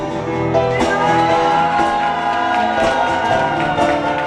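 A bar audience at Fabric Bar in Plovdiv applauds and cheers after live music, a loud, dense wash of clapping, shouts and whoops with sustained musical tones running underneath.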